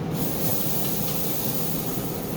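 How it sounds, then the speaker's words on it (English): A broad, steady hiss fills the clip as mop sauce is misted onto pork cooking on a Z Grills pellet grill, the spray continuous and fairly close with no pauses or talk. "periodically you just want to give it a good misting, a good spray, a good mopping"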